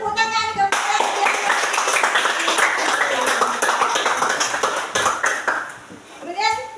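A classroom of children claps together in a burst of quick, close, overlapping hand claps lasting several seconds, with children's voices around it and a rhythmic chant-like beat near the end.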